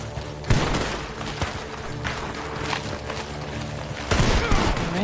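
Cowboy gunfire in Red Dead Redemption II, with a cluster of sharp gunshots and thuds amid a busy, loud mix of movement and impacts, including a heavy burst near the end.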